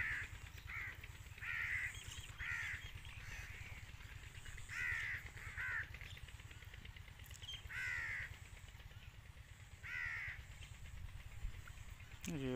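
Crows cawing outdoors in short repeated bursts over a steady low hum, fairly faint, with a voice talking underneath.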